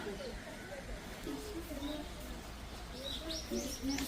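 Several birds call and chirp at once, with scattered tweets and coos over a steady outdoor hum in Naha, Okinawa, fairly distant and overlapping.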